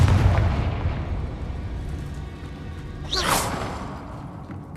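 A Confringo blasting spell in Hogwarts Legacy bursts with a deep booming rumble that fades, then a sharp whooshing fiery impact cuts through near the end, loud and close, with no talking.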